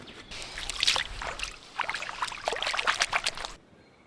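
Hands being washed in a river on a dirt bridle-track route, with water splashing and trickling in uneven bursts close by, loud and alone, stopping abruptly near the end.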